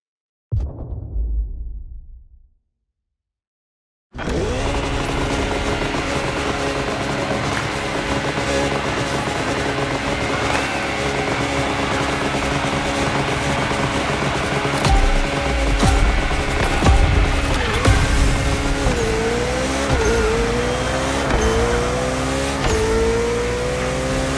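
A Koenigsegg Jesko hypercar engine in the racing video game The Crew Motorfest: a brief burst, a moment of silence, then a loud sustained engine roar with rising and falling revs, close and without talk.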